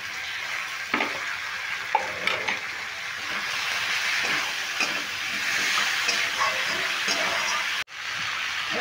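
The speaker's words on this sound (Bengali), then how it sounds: "সামান্য পরিমাণে একটু জল দিয়ে দিলাম।" Cabbage curry with tomato, peas and potato sizzling and frying in a pan as a little water goes in, a steady loud hiss with scattered stirring clatters and one brief dropout near the end.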